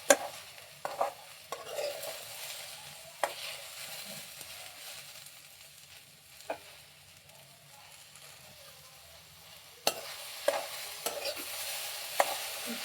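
Okra (ladies finger) frying in a little oil in a pan, a faint low sizzle broken by occasional sharp clinks and scrapes of stirring, spaced irregularly, no talk.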